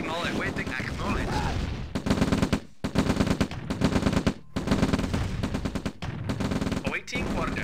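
Dense bursts of gunfire and explosive shelling from artillery units in the real-time strategy game Command & Conquer Red Alert, loud, repeated in choppy volleys separated by brief gaps, with faint unit voice responses between.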